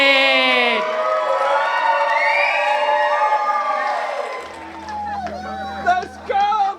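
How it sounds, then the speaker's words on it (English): Wedding reception crowd in Las Vegas cheering and whooping for the newlyweds, a loud, close swell of shouts and cheers that later thins into scattered whoops. "let's get a big round of applause"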